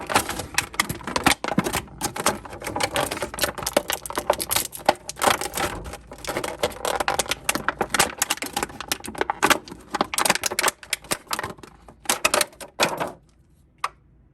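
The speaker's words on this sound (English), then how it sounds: "Now we're going to get Genie out by cutting out this rope tie." Cutting the rope tie off the packaging of a McFarlane Disney Mirrorverse 7-inch Genie action figure gives a dense run of close crinkling, snipping and clicking for about thirteen seconds before it stops abruptly.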